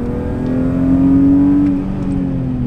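A car engine driven hard on a race track holds a steady, close, rising note that swells in loudness midway and then eases slightly, with no voices.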